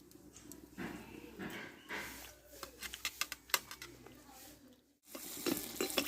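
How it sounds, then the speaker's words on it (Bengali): Semolina poya pitha fry in hot oil, with an uneven sizzle, bursts of sharp crackling pops, and soft stirring and handling noises between them. The frying sound drops out briefly near the end and then comes back. "পরবর্তী সবগুলো একইভাবে ভেজে নেব"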